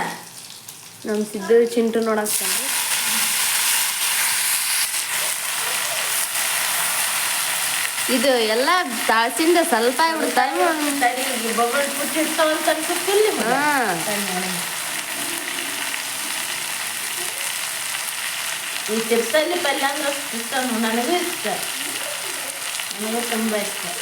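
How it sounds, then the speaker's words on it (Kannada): Cumin, mustard seeds and garlic sizzle loudly in hot oil for tempering, a steady, close frying hiss that runs the whole time while voices talk on and off over it. "ಎಣ್ಣೆ ಜೀರಿಗೆ ಸಾಸ್ನಿ ಬೆಳ್ಳುಳ್ಳಿ ಹಾಕ್ಯಾರ ಈಗ"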